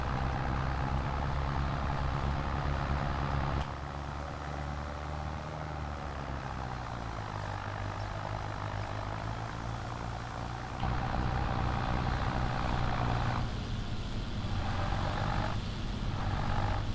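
A tractor engine in the Farming Simulator 25 video game drones continuously at a steady low rumble, with slight shifts in pitch and load partway through and no talking over it.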